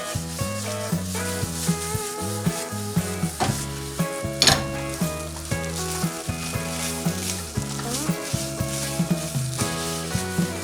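Chicken frying in a pan while being stirred, giving a steady close sizzle broken by repeated scraping stirs, all over background music.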